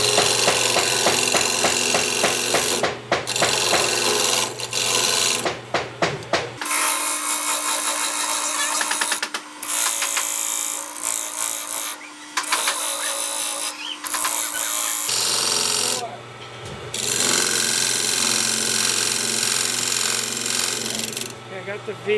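Skew chisel cutting a small V into wood spinning on a lathe for a gumball machine, a steady motor hum with bursts of scraping and chattering cuts that stop and restart, with a voice talking in places.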